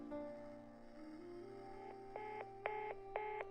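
A phone call ending in the video game Reverse: 1999, heard as a clean electronic tone stepping upward, then three short bright beeps in a row, close and alone.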